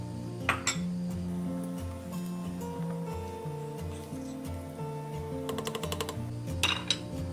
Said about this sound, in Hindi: इसको अच्छे से हिला लें।